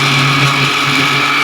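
Electric kitchen machine churning cream into butter, a loud steady motor whir with a constant hum and faint shifts in pitch, close by and alone.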